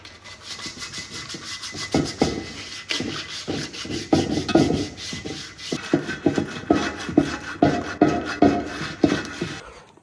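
Sandpaper scrubs across a painted wheel in quick, irregular back-and-forth strokes, close and fairly loud, building in pace over ten seconds with no talk.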